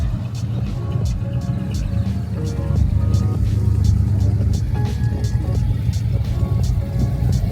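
A classic car rumbles past during a Monday cruise event, its steady low engine drone loud and close, rising slightly midway, with voices talking over it.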